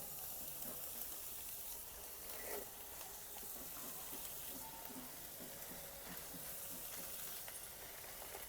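Chopped vegetables fry in butter for veg momo filling, giving a steady, soft, continuous sizzle and hiss with no voices.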